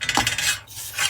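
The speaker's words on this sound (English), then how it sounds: "Sorry about the noise the ruler makes on the glass board." A ruler scraping across a glass board while paper is torn along its edge, a short harsh rasping and scratching burst, close and fairly loud, no talking.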